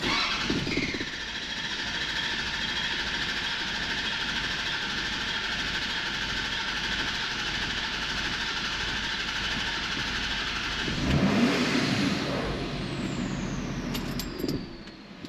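A 2011 Ford 6.7 Powerstroke diesel cranks over steadily during a compression test, a continuous droning churn with a high squeal, then a louder burst and shift near the end as it stops.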